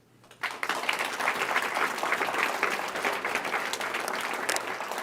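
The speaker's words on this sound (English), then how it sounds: "Let's give him another round of applause." A conference crowd bursts into sustained applause, steady dense clapping that swells quickly after a brief quiet start and continues throughout.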